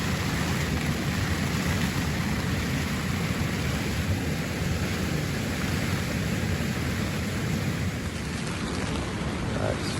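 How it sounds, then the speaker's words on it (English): A continuous, loud, broadband roar fills the scene throughout: a raging river beside a tent on the West Highland Way in Scotland, mixed with gusting wind and falling rain, heavy and unbroken, with no clear voices. "That's the river next to me, raging away. And this is the wind blowing, the rain going"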